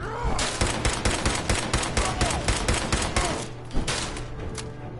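Rapid gunfire from a semi-automatic weapon in Fallout 4, a dense string of sharp, loud shots in quick succession with brief pauses between bursts.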